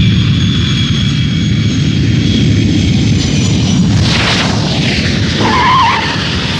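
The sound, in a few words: aircraft landing on runway, animated film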